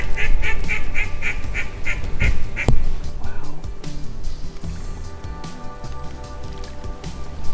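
A big group of mallard ducks on a Mississippi waterfowl hunt quacks in quick repeated bursts, loud and close at first, then thins out over a wash of water and rain-like noise.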